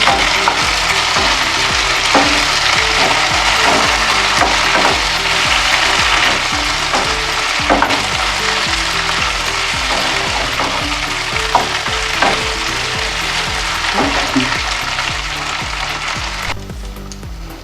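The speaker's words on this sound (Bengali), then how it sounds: "এবার আমি কন্টিনিউয়াস নাড়তে থাকবো।" Chicken pieces fry in a pan with garlic, onion and curry leaves, a loud, continuous sizzle punctuated by repeated scraping knocks of a spoon stirring without pause, close up and with no talking.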